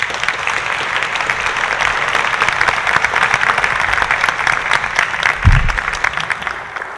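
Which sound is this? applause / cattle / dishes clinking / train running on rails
applause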